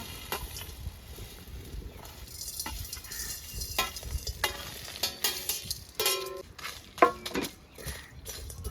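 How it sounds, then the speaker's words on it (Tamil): Whole spices, including cloves, cardamom, black stone flower and star anise, being dry-roasted in an empty pan outdoors, with faint crackles and scattered scraping and stirring clatters that grow sharper near the end. "இதை நம்ம வந்து வெறும் சட்டியிலேயே வறுக்க போகிறோம்"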